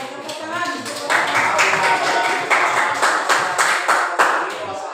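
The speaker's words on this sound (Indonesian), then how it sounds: "kembali tepuk tangan" Classroom applause for a student group presenting in an Indonesian teaching-practice lesson: a steady burst of hand clapping from a small group, close and moderately loud, with sharp individual claps standing out over soft murmuring voices.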